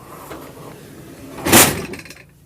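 The second drawer of a mechanic's toolbox is pulled open, making one loud, brief metallic slide and clunk that rises out of quiet handling noise and then fades.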